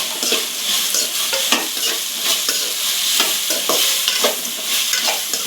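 Dry gobi (cauliflower) sizzles and fries in a pan, with lemon used in place of vinegar, as a utensil stirs it in repeated scraping strokes over a steady close-up crackle, with no talking.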